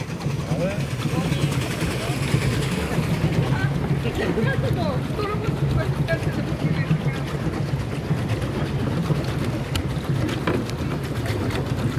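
A small motorboat engine drones steadily at close range, a low even hum under gusts of wind buffeting the microphone, with people talking nearby.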